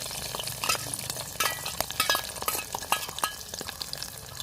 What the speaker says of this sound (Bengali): আমাদের চুলার তেলটা ফুটে গেছে, তার জন্য আমরা এখানে পেঁয়াজ রসুন দিয়ে দিচ্ছি।